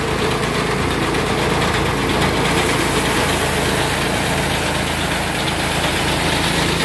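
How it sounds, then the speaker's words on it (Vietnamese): A mini rice threshing machine with a fan runs on a petrol engine, giving a loud, steady, close engine drone with constant mechanical vibration and no pauses or voices. "hiện tại là đang lắp động cơ xăng"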